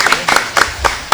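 A school quiz-contest audience claps for the jury president in a few loud, uneven bursts, brief and close.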